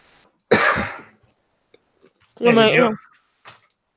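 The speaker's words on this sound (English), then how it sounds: "yet she's the one with the bad cough." Two harsh coughs, the first a raspy burst and the second a deeper, more voiced hack, separated by a pause with a few faint clicks.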